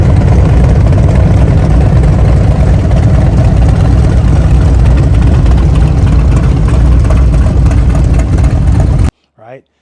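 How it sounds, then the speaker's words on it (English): A motorcycle engine idles through Tab Performance Redline Series slip-on exhausts with a deep, steady, throaty rumble, close and loud, ending abruptly before a brief voice. "So Tab Performance is known for their exhaust and how it sounds and how it looks."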